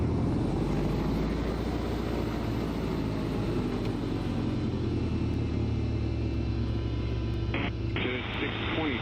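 Piper Arrow 3 single-engine propeller plane in a flight simulator, a steady loud low drone and rumble throughout on departure, with radio chatter running over it.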